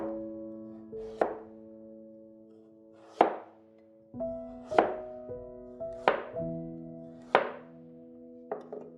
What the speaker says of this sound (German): Möhren zuerst in ganz dünnen Scheiben schneiden.